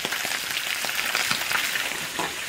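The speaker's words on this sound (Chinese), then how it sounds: "这个不能着急，用小火慢慢煎。" Loach fish slowly pan-frying over low heat in a wok, giving a steady, close, even sizzle with faint crackles and occasional stirring taps, no voices.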